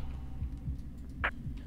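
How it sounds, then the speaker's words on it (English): A heartbeat pulses as soft, low, evenly spaced thumps, with one brief brighter blip partway through and no talking. "Why's my heart beating?"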